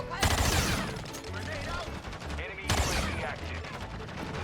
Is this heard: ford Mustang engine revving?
no